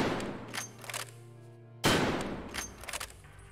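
A single M700 bolt-action sniper rifle shot in Escape From Tarkov, one loud, sharp crack with a long decaying tail, close and alone, preceded by quiet room tone.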